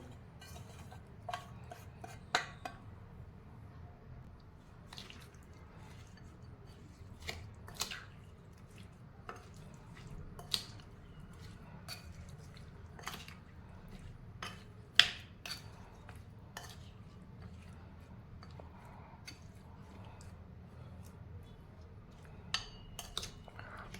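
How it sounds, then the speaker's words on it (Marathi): A spoon stirs cooled, oil-fried spice masala into a homemade lemon and green chilli pickle, giving faint scattered clinks against the container and soft wet squishes over a quiet background. "तेलात घातलेला मसाला आपला गार झालेला आहे आपण तोही यात मिक्स करणार आहोत"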